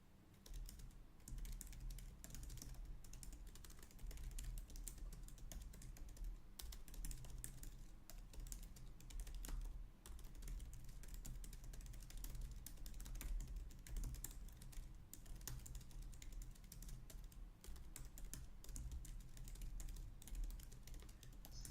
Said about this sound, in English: I was typing it up.